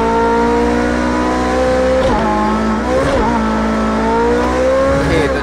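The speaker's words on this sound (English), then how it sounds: "Lots of wheel spin still." A Porsche 918 in a racing game revs hard as its rear wheels spin, giving a loud, sustained engine whine that rises and dips in pitch several times, with no talk over it.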